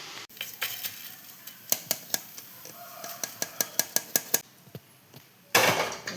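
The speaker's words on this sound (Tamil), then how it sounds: "நெய் ஊற்றி இந்த மாதிரி தேங்காய் நல்லா இந்த மாதிரி நல்லா பொன்னிறமாக வறுத்து எடுத்துக்கலாம்" Coconut roasting in ghee in a pan, with repeated sharp metallic clinks of a spoon against the pan over a low background, ending in a burst of louder sizzling scraping.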